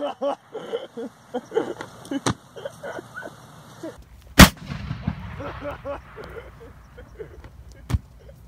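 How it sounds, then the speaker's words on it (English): Two car airbags set off together produce one sharp, loud blast, with people talking before and after and another shorter bang near the end. "We're blowing up airbags. Two. At in the same one. time."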